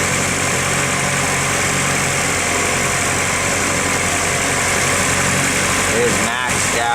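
A Nissan 180SX engine idles steadily while warming up, with a constant close mechanical hum and vibration throughout and a brief dip near the end.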